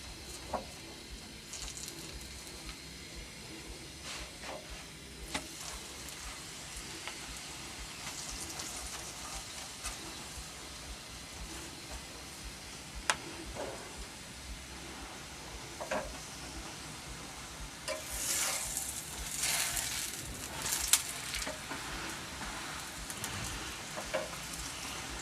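Methi paratha cooking with ghee on a griddle, a quiet steady sizzle that swells louder with sharper crackles toward the end.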